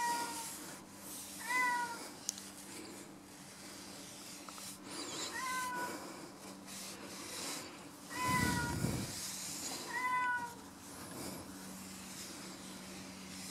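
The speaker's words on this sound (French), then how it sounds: "Il y a le petit chat qui miaule" Small cat meowing inside a garage, four short rising meows spaced a few seconds apart, moderately close, over a quiet background with a brief low rumble between calls.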